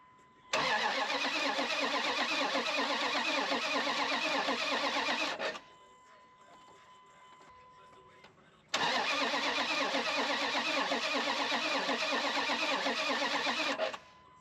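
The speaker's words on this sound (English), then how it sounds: "hopefully hear this Hemi come to life" A Hemi V8 engine cranks steadily for about five seconds, pauses in near silence, then cranks again for another five seconds without catching.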